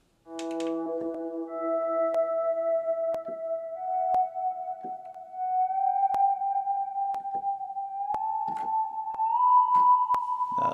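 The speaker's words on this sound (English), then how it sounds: "now what I'm gonna open up this little fake slide guitar e-piano thing" A fake slide guitar e-piano synth patch plays sustained tones that glide upward in pitch for a beat-making session, with faint key clicks and light taps scattered through the held notes.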